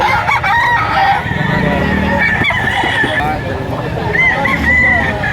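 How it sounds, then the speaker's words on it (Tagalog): Chickens and roosters at a busy poultry market in Lipa, Batangas, crowing and clucking under constant crowd noise and nearby talk, with several crows rising over the din. "Ang gaganda nito mga manok boss yun"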